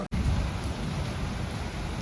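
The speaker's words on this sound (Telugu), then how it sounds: "చూపిస్తా చూడండి వర్షం ఎట్లా పడుతుంది బయట." Heavy rain pours steadily in a dense, continuous hiss, loud and close, with no voices.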